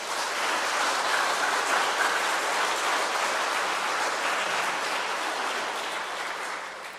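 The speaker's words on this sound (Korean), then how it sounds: "큰 박수로 시작하겠습니다" Applause opening a Catholic reading concert at Cheongdam-dong Cathedral, a dense, even roar of many hands clapping for about seven seconds that tapers slightly at the end, with no talk over it.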